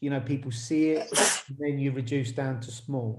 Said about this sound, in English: Bless you, whoever sneezed.